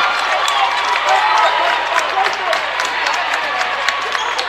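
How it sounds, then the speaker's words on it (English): A crowd at a women's basketball game cheers and claps loudly and continuously, a dense roar of applause filling an indoor gym. "the crowd certainly liked that, the building getting loud"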